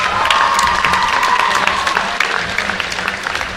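An audience in a high school gym applauds boys' basketball players with loud, steady clapping and some cheering, fading slightly toward the end.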